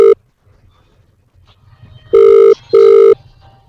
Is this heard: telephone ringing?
yes